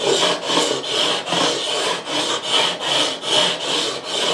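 A file is drawn in long, even back-and-forth strokes across guitar frets to level them, a bright rasping scrape repeating roughly every half second, close and loud with no voices.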